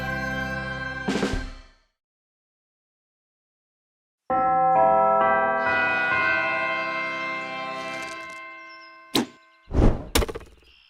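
In an animated children's cartoon, arrows strike an archery target with a couple of sharp, close thunks near the end. They come after sustained tonal sounds and a stretch of silence.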